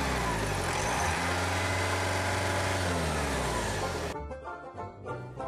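A 2014 Subaru Forester 2.0 boxer diesel engine idles close by with a steady low throb for about four seconds, then the sound drops away to quieter, uneven background noise. No speech.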